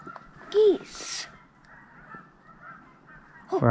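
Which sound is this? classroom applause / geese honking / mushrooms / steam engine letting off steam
geese honking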